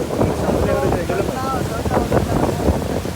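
Wind gusting into the microphone at a tourist spot on the Arali bridge, a steady low rumbling buffet heard close and loud throughout, with someone talking over it.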